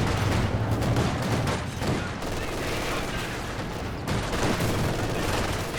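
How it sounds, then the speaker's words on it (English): Machine gun fire in the Company of Heroes 2 strategy game crackles in dense, continuous bursts alongside other battlefield noise, loud and sustained, with a brief dip partway through. "Two machine guns"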